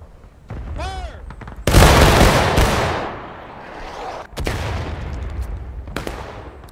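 A musket volley erupts in a War of Rights battle: a loud, sustained burst of massed gunfire rolling into echoing reports, followed by a second crackling wave of shots, with brief shouted voices just before.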